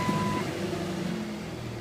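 A Jeep engine starts and settles into a low, rumbling idle close by, with a short high beep at the very start and no voices.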